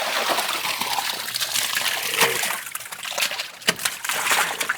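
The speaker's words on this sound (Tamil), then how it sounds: "எல்லாம் பரவாயில்ல, எல்லா இடத்துலையும் ஊற்றி விட்டுருங்க." Water poured across an azolla growing bed, a continuous splashing and trickling flow with a few sharper splashes, fairly close and steady.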